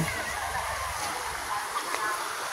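Many people bathing in a river at Bukal, Tiaong, Quezon, with continuous water splashing and sloshing, a broad rushing wash of water close by and no clear talk.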